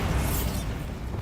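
Bombarda explosion spell going off in Hogwarts Legacy: a brief, dense blast with a rumbling, crackling body that fades quickly.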